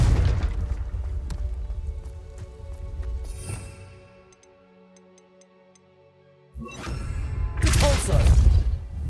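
Confringo fire spell cast in Hogwarts Legacy, heard as a sharp booming blast with crackling bursts set over an ambient game score. A quieter lull follows before another loud burst of impact noise.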